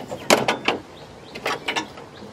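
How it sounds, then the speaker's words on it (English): Rubber radiator hose being worked off its fitting on a 2014-2019 Jeep Grand Cherokee, giving a few close, sharp scraping and clunking bursts in two quick clusters with brief pauses between. "Now I'm gonna take this hose out right here."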